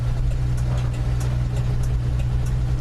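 A Plymouth Valiant driving along with a steady low engine drone and road rumble, its automatic transmission shifting gears and skipping second; no voices.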